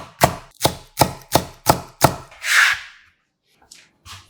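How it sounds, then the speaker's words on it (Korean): A knife slices half a green onion on a cutting board in six crisp, evenly spaced chops, followed by a soft swishing scrape and a few faint taps. "국물에 시원함 더하는 대파 반 개는 송송 썰어 담아주세요"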